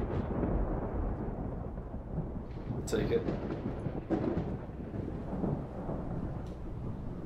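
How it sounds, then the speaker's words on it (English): A very active dry thunderstorm in the Project Zomboid video game gives steady low rumbling thunder with a few sharper cracks. Someone talks briefly over it. "A very active dry thunderstorm."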